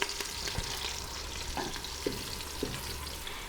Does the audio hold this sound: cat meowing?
no